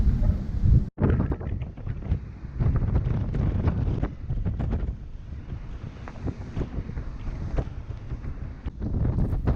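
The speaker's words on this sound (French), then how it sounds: "Il faut dire que le vent atteint 7 Beaufort." Strong Force 7 wind roars and buffets continuously at sea on a sailboat, with rushing water and boat noise underneath, loud and unbroken throughout, no voices.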